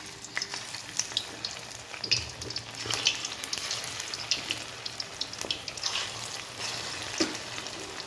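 Lentil fritters (bora) sizzle in white oil in a kadai, a steady close crackle with scattered sharper pops throughout.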